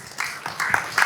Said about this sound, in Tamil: நல்ல ஒரு பெரிய கைத்தட்டல் கொடுக்கலாம்